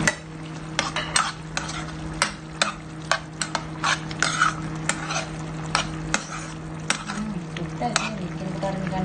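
Okra sizzles and fries steadily in a pan for a spicy sardine, pumpkin and okra dish, with a spoon repeatedly scraping and clattering against the pan in an irregular rhythm, close and moderately loud.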